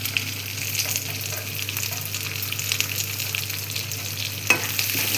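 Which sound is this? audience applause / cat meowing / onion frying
onion frying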